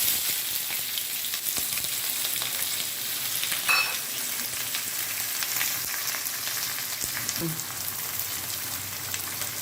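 Cinnamon, whole spices and small shallots fry in hot oil for a Chettinad prawn gravy, producing a continuous close crackling sizzle with a few light clinks and stirring sounds.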